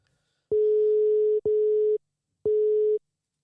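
A telephone busy signal sounds after a call is hung up: three loud, steady tone pulses of about one second, half a second and half a second, with short gaps between them and no talk.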